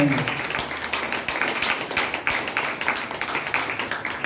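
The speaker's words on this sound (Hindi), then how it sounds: "सर के लिए जोरदार ताली बजाएंगे।" Audience applause for a speaker at a DXN business gathering in Bhagwanpur, a steady wash of many hands clapping with sharp individual claps throughout, fairly loud and continuous.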